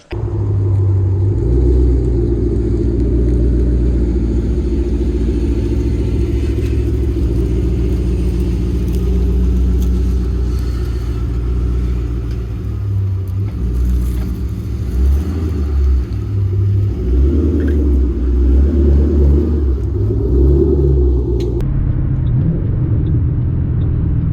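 A Ford Mustang with a nail in one tire drives along the road, its engine a loud, steady low rumble close by, with small swells of acceleration and no one talking.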